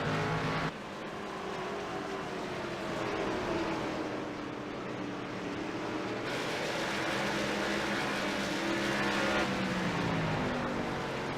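Race car engines roar and rise in pitch on the Myrtle Beach Speedway oval, a sustained loud drone of cars accelerating with shifting tones as they pass, no talk.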